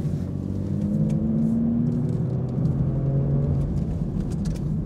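An Aston Martin V12 Vantage Zagato drives past as a steady, close engine rumble with a sustained low drone and slight pitch shifts, loud and continuous without voices.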